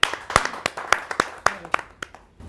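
An audience claps to welcome a poet onto the stage at a Hindi kavi sammelan, heard as a short burst of a few close, distinct hand claps in quick succession.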